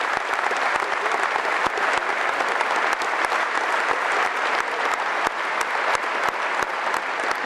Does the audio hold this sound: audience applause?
yes